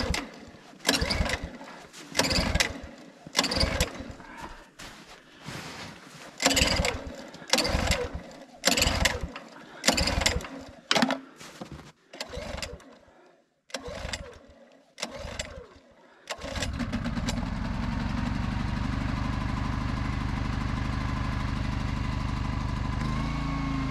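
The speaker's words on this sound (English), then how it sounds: "Generator" A small generator engine in cold weather, idle for months, is pull-started over and over, each tug making a loud chugging burst, until it catches after about sixteen seconds and runs with a steady, close drone.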